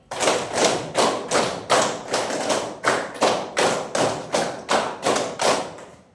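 A steady run of about fourteen sharp hand claps in a rhythmic clapping game, loud and evenly paced, with no voices over them.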